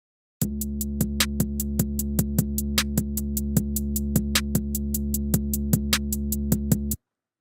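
A steady electronic synth tone in FL Studio held for several seconds, pulsing with quick regular clicks in an even rhythm, clean with no voices.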